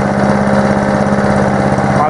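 A Honda lawn mower engine, freshly serviced, runs at a steady idle with a deep, even growl beneath its exhaust note, loud and close, holding constant throughout.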